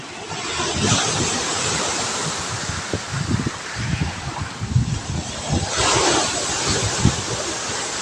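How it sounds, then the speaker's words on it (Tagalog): Ocean waves roll and break repeatedly near a pier, a broad rushing surf with wind buffeting the microphone. "Gandang alon."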